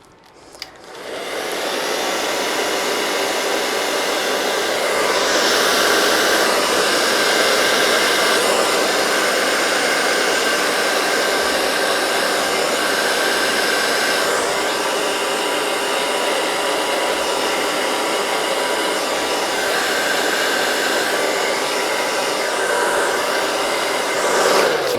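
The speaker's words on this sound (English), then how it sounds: "I'll get my other blow dryer to blow out the design, because I like my smaller blow dryer for more control." A small hair dryer blows acrylic paint across a canvas for a Dutch pour, producing a loud, steady whooshing motor hiss that starts abruptly and runs continuously near the microphone.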